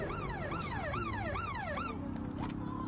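Police sirens in Watch Dogs Legion wail in fast rising and falling sweeps, loud and close, then give way to a lower steady tone and traffic rumble near the end.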